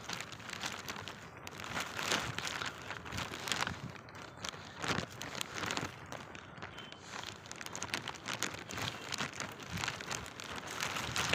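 Cold rain falls steadily and close by, a dense, continuous patter with crinkly texture that holds an even loudness throughout, with no voices over it.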